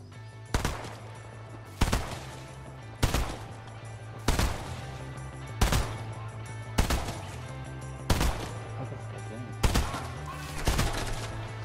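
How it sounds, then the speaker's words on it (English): Repeated gunfire in the Fortnite battle royale game, about nine sharp shots at a steady interval of just over a second, loud and close over a constant low game hum, with no talk. "There's a guy shooting at you."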